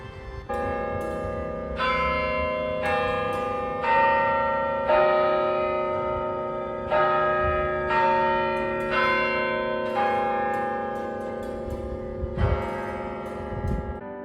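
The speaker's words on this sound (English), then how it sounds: "There are 5 bells in the tower that were made in England, and they still sound beautiful to this day" Five English-made church tower bells at Colorado College, Colorado Springs, peal in a steady sequence, each strike ringing out with long, overlapping resonant tones that fill the air without any voices.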